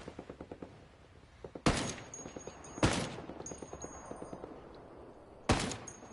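Rapid gunfire in a shooter video game, a quick rattling burst followed by three loud, sharp shots spaced about a second apart, each with a ringing tail, over a quiet background.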